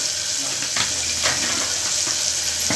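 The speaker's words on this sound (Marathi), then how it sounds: "असं मस्त हलवून घेतली." Turmeric and homemade garam masala get stirred into paya soup in a pan, a steady hissing sizzle with soft scraping strokes, close and continuous.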